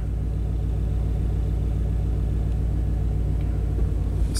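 A classic Chevy engine idling roughly and beginning to misfire, a steady close low rumble with a faint uneven pulsing throughout.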